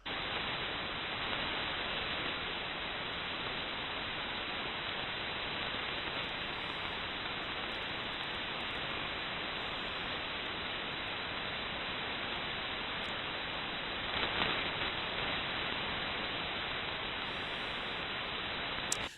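Constant hissing radio static between two amateur radios, even and unbroken, with a brief louder burst of crackle near the end.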